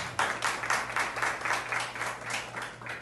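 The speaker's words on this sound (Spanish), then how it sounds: "Aplauso para ella." Audience at a graduation ceremony claps in a steady burst of applause, moderately loud and sustained for a few seconds with no talking.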